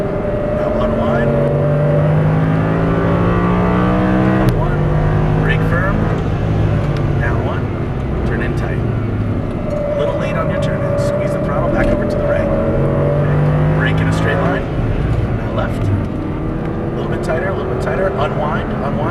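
An Audi R8 V10 drives on a race track at Las Vegas Exotics Racing, its engine droning steadily and sweeping up and down through gears while an instructor talks over it throughout.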